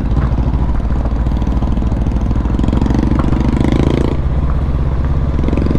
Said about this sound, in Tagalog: Ang ganda ng motor niya.